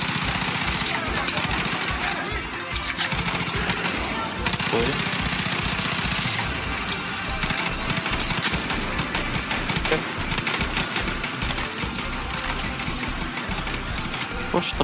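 Rapid, rattling automatic gunfire in Far Cry 5 hammers on loudly and steadily, with voices talking over the constant shooting.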